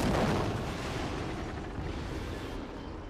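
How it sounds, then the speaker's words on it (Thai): Explosions erupt in the Sniper Fury mobile shooter game, a loud, dense rumbling blast that starts strongest and slowly eases into a continuous roar across about three seconds, with no voices over it. "โอ้โหระเบิดตุ้มตั้มตุ้มตั้มอย่างกับหนัง"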